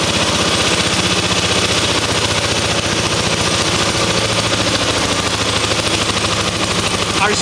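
A small engine runs under load on a bench-top dynamometer at around 1,300 RPM and slowing. It gives a loud, continuous, rough drone with a rapid low pulsing firing rhythm throughout.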